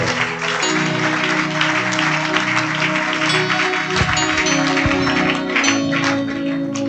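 A church congregation applauds the Lord with sustained, dense clapping that carries on steadily across the hall, backed by an ongoing low musical drone and a few heavier thumps.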